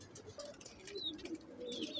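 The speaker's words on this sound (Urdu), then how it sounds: "جی دوستوں آج آپ کے لیے میں بڑے اچھے کبوتر لے کر آیا ہوں" Pet pigeons, a mix of Teddy, golden, red-eyed and Rampuri birds, give soft low coos while thin chirps and light rustling come and go in a quiet background.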